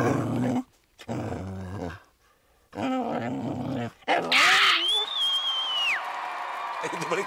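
A dog growls and whines with a drawn-out tonal cry in a Hindi TV comedy scene. It comes right after several stretches of people talking, and the sound stays close and fairly loud.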